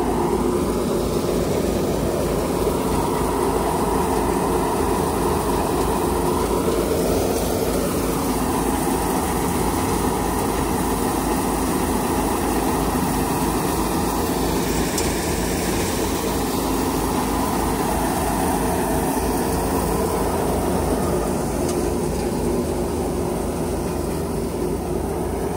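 A Vishwakarma multicrop hopper thresher threshing wheat runs with a steady, loud mechanical drone and constant rattling hum, unbroken throughout at close range with no talking.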